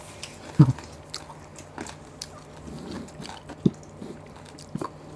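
Crisp bites into fried crispy pork skin at a Filipino New Year's Eve mukbang, a few sharp crunches spaced apart, close and fairly quiet with no talk.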